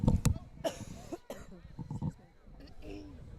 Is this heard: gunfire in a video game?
no